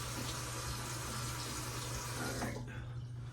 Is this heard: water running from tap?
yes